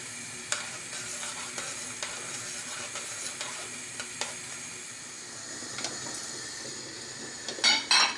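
Quiet bubbling and hissing of a vinegar marinade for sulphur shelf mushrooms simmering in a pot, with a few soft clicks and a brief clatter near the end.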